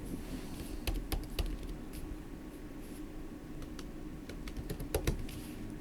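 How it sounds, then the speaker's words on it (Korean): Keys on a computer keyboard click crisply during Photoshop work as Command+Enter is pressed, scattered sharp taps close by over a quiet room hum, with no talking. "커맨드 엔터 치시고"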